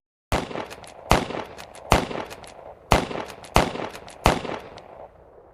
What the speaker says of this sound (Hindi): फायर, गोली चलाओ।